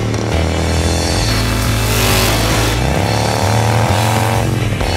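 An American motorcycle fitted with an Arlen Ness MagnaFlow exhaust revs up close, the engine rising and falling through several loud, throaty throttle blips with a deep rumble at idle between them.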